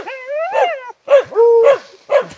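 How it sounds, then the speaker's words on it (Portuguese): A hunting dog on a paca hunt gives a string of loud, close, drawn-out whining barks and yelps, four bursts with short gaps between them. "O cachorro tá chamando lá."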